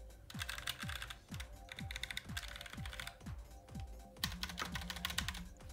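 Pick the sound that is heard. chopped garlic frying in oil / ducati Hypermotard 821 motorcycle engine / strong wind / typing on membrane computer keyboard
typing on membrane computer keyboard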